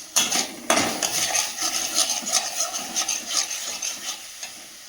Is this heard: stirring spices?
yes